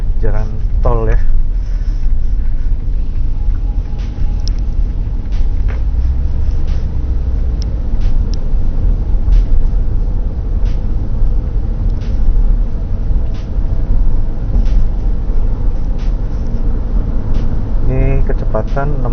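Cabin road noise in a car on a toll road at about 60 km/h, after floor sound-deadening was fitted, forms a steady low rumble throughout, with voices speaking over it near the start and end.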